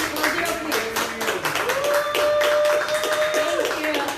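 Audience round of applause at a live music performance in the Below Zero Lounge, steady clapping throughout with a sustained tone and speech-like sounds mixed in over the crowd.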